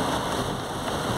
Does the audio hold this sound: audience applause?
no